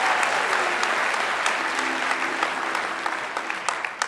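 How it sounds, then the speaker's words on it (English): A live podcast audience at a storytelling show in Los Angeles applauding, dense sustained clapping from a full room that stays strong and then thins slightly toward the end, with a faint voice underneath. "So give them a round of applause."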